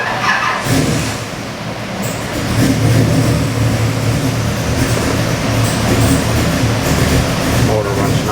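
A 540 cubic inch EFI big-block Chevrolet airboat engine of about 700 hp idles and runs, a deep, loud, continuous rumble with a slight surge after the first couple of seconds, close by.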